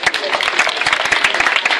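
An audience at a hypnosis show at a campsite claps rapidly and loudly, a dense, continuous round of handclaps filling the short moment.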